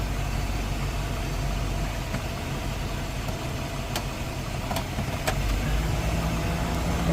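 A 1998 Chevrolet Express 3500 van idles steadily, its engine a continuous low rumble with an even, unbroken drone throughout, fairly close and alone with no talk over it.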